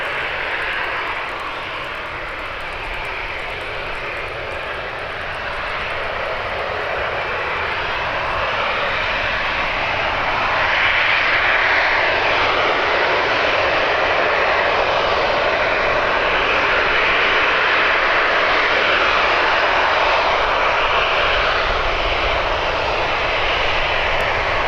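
A Ryanair airliner arrives at Birmingham Airport, its engine roar building gradually from a moderate rumble into a loud, sustained wash of noise with no voices.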